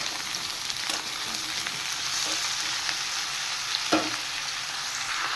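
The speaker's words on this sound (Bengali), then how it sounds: "আলু, বেগুন, পটল, কাঁঠালের দানা একসাথে এবার সব ফ্রাই করে নেব" Potato, eggplant, pointed gourd and jackfruit seeds fry together with onion in hot oil, a steady broad sizzle with a few soft stirring knocks, close and continuous with no talking.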